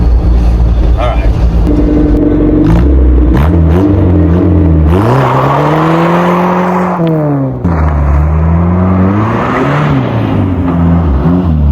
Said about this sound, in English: Oh, you want me to do a burnout?